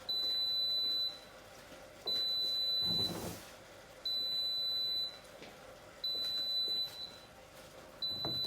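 Instant Pot pressure cooker beeping repeatedly in a kitchen, a steady high-pitched tone lasting about a second, sounding every two seconds, fairly loud and alone.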